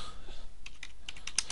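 Quick, irregular clicks of a computer keyboard as someone types C++ code, close and fairly quiet, in short bursts with no talking.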